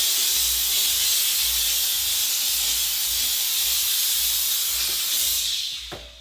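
A Wagner Spraytech 915e on-demand steam cleaner blows a steady, loud hiss of steam that runs unbroken for about six seconds. A low pulsing hum from the unit sits beneath it, and the sound tapers off at the end.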